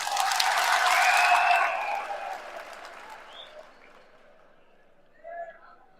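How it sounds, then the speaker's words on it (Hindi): Crowd at an outdoor political rally in Delhi breaking into loud applause that swells at the start and then fades out to quiet over several seconds. "या तो तालियों में कमजोरी लग रही है।"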